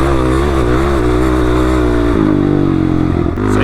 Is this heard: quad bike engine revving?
yes